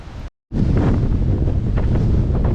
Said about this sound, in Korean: 바람 때문에 말을 못 하겠네